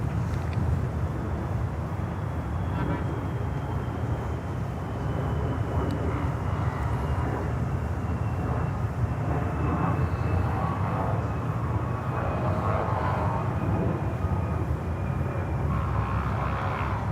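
An Avianca cargo plane at Miami airport, a steady, fairly distant jet engine rumble with a faint whine holding evenly throughout, with no voices.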